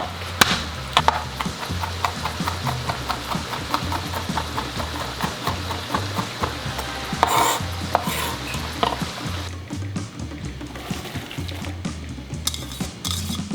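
Chopped onions and minced garlic cook in a pot for canned beef chili, a low steady sizzle punctuated by repeated spoon stirs and knocks against the pot, with no talk.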